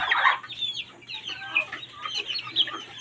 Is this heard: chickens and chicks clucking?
yes